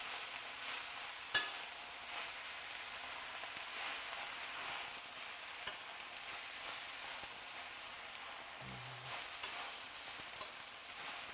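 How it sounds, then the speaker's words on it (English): Grecian spinach wilting in a pan over medium heat, stirred with a soft scraping rustle over a steady faint sizzle, close and quiet with no voices. "I'm going to take a minute and just start mixing this up a bit"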